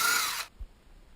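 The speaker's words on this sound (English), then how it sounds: "we just got to drill another hole, and we're going to put the second screw in" A power drill whines briefly at high speed while boring a hole for a GoPro mount screw in a garage, cutting off after under half a second and followed by a faint low thump.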